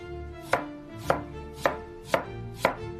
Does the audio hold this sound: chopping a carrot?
yes